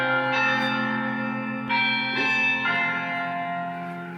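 A church bell chimes several times through a voice assistant speaker, its sustained metallic tones ringing and overlapping in a steady, fairly loud sequence with no talking.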